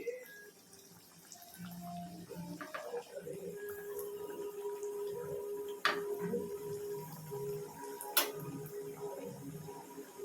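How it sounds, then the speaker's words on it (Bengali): Gaja sweets frying one at a time in hot oil over a low flame, giving a steady, moderately quiet sizzle and hiss that runs throughout with a few sharper pops. "তেলটা গরম হয়ে গেছে তেলটা বেশি হিট করে দেওয়া যাবে না তো হালকা হিটেই দিতে হবে তো চলো একটা একটা করে ভাজি"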